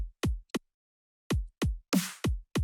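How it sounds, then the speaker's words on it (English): Sparse electronic drum hits with booming kicks and one sharp, noisy snare crack, spaced unevenly in a slow half-time groove. "So if I play the dubstep drums,"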